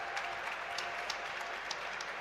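An audience at a live technology summit in India cheers and applauds together, a steady wash of clapping and voices with a few sharper claps breaking through.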